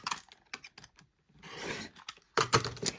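Scissors snip and trim fabric pieces in a few quick close-up cuts, crisp short blade clicks and rustling bursts separated by brief silences.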